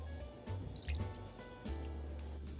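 Milk pouring into cream of mushroom soup in a kitchen, a quiet, steady liquid stream with a few soft drips and squishy splashes, close and faint.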